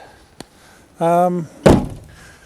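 A Land Rover Defender 90 200TDi passenger door shuts with a single solid thunk, preceded by a brief tonal sound and a faint click, heard close with no talking.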